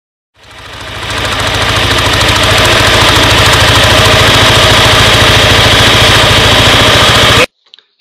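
A Carter 250/300 go kart engine fitted with a Dr.Pulley clutch starts up and runs steadily, a loud continuous mid-pitched engine drone with a knocking, vibrating rhythm that holds for about seven seconds before cutting off abruptly.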